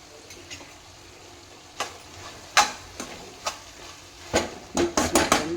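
A spoon stirs pumpkin palya with grated coconut in a pan, giving faint, scattered scrapes and clinks against the metal over a soft sizzle, sparse at first, then in a quicker burst of strokes near the end.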